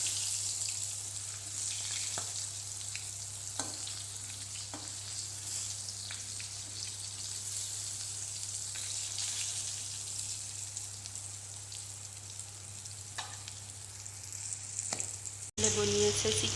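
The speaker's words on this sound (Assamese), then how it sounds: "পটল ফ্ৰাই কৰি আছোঁ আৰু ইফালে বনাই আছোঁ চিকেন" Pointed gourd (potol) frying in hot oil for a chicken dinner, a steady close sizzle with faint crackles running throughout, then a brief louder burst at the very end.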